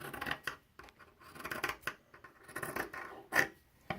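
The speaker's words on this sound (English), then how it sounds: "you can get a pair of scissors and cut your fabric like on a curve somewhat" Scissors snip through fabric along a curve at a sewing lesson, giving a run of irregular crisp cutting and scraping strokes, close and fairly quiet, with no voices.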